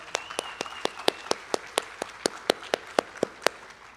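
Clapping at a State of the City address, sharp claps spaced evenly in a steady rhythm, fairly faint and sparse, like a few people applauding rather than a full crowd.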